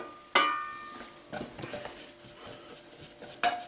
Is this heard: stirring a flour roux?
yes